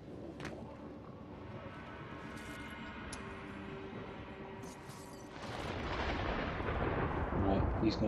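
Gunfire from the stealth video game Splinter Cell: Blacklist pops in scattered shots over a low rumbling game soundtrack, with a louder burst of noisy action swelling near the end.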